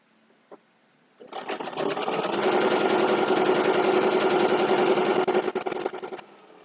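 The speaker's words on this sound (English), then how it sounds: "I'm going to turn it around, and I'm going to sew back up" A domestic sewing machine stitches a fabric potholder in one steady, fast run of rapid mechanical chatter lasting about five seconds, preceded by a soft click in near silence and ending abruptly.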